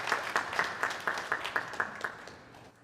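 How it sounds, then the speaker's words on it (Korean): A church congregation at a Sunday worship service claps in unison, about a dozen regular, evenly spaced claps from a crowd that soften and fade out after under three seconds. "우리 박수로 다시 한번 축복해 주시기 바랍니다."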